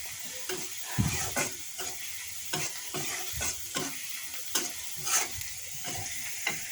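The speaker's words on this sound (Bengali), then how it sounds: "পেঁয়াজটা একটু লালচে হলে মাংসটা দিয়ে দিব।" Onions and meat sizzle steadily in a hot pan while a spoon stirs them, scraping in repeated sharp strokes roughly every half second over the continuous frying hiss, close and moderately loud.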